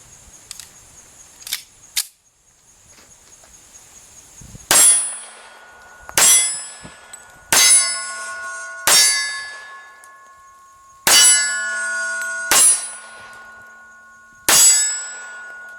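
A 1911 pistol fires .45 ACP rounds into a 12 by 20 inch AR500 steel silhouette target. About seven loud, sharp metallic clangs ring out at irregular intervals, each with a short ringing decay, after a few faint clicks at the start. No talking.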